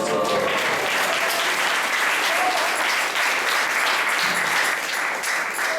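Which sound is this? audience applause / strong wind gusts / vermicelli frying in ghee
audience applause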